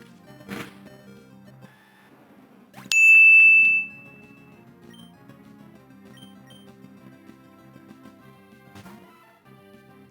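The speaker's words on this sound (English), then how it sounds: "cue up the bell" A single bright bell chime sound effect rings once in a Pokemon Emerald randomizer Nuzlocke run, clear and ringing over faint background game music.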